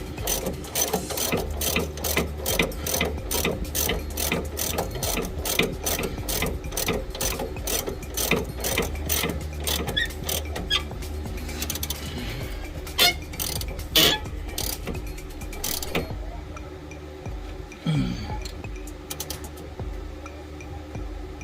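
Ratcheting wrench tightening a bolt on a billet aluminum MPC Motorsports drop fork for a 4th-gen Honda Prelude, a long run of rapid, close metallic clicks in steady rhythm, pausing briefly near the end with a faint creak.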